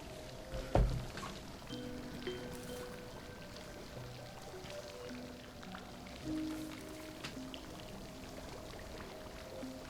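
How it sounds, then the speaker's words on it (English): Water runs steadily in the Mercury Abbey game, a faint continuous pouring trickle with soft hum and occasional tonal blips behind it, no talking. "Soothing sound of running water."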